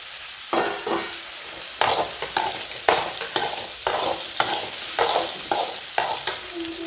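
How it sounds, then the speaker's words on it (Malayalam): Mango pieces and slit green chillies sautéed in a hot pan for a spicy mustard mango curry, giving a steady close sizzle broken by repeated scraping and stirring strokes, no voices. "വാട്ടിയെടുക്കാം മാങ്ങയുടെ ഒപ്പം തന്നെ ആ പച്ചമുളക് കീറിയിട്ടത് അതിടാം"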